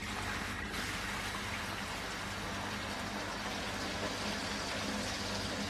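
Chicken stock gently poured into a pan of potatoes for fondants, a steady soft liquid splash and trickle running continuously at close range with no voices.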